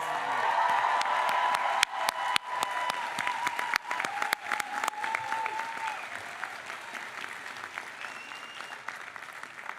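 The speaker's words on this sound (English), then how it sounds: "They deserve a huge round of applause." Large crowd applause at a graduation diploma ceremony, a steady, sustained wash of clapping lasting several seconds with a few sharper individual claps standing out, heard from within the hall.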